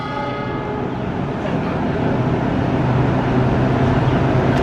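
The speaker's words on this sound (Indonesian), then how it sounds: "masuk dinas rangkaian KA Anggrek dari Jakarta Kota" The KA Anggrek passenger train at a Jakarta station, heard as a loud, steady rumble of rolling rail cars with a broad wash of noise that swells slightly over the few seconds, with no talking.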